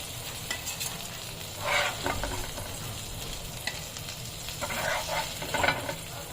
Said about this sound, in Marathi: एकदम कमी तेलामध्ये आपण मच्छी फ्राय केलेली आहे